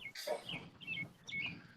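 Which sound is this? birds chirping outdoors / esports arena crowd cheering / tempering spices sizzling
birds chirping outdoors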